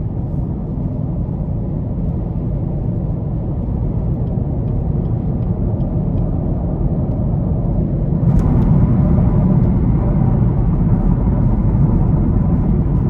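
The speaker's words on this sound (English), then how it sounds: "just absolutely great sound." Steady low exhaust drone and road rumble from a 2021 Chevrolet Camaro 2SS coupe cruising along, continuous throughout with a slight lift in loudness toward the end and no talking.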